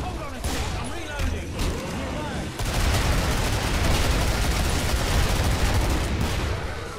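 Dense, sustained gunfire from the zombie-shooter video game Killing Floor, rapid overlapping shots and heavy bursts filling the whole stretch at a loud, steady level, with players talking over the action.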